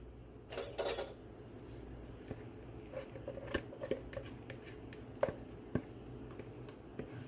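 A small spatula scrapes thick chocolate pudding mixture from a bowl, giving quiet, scattered clinks and soft scrapes with a brief louder clatter near the start.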